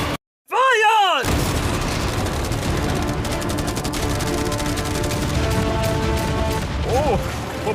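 Machine guns and about 100 cannons fire together in a dense, continuous barrage aimed at a yacht, loud and close, with swooping whistles and voices mixed in.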